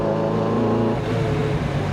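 A Lotus Elise 340R sports car engine drones loud and close while driving, holding a steady high-revving tone with layered harmonics throughout the short stretch.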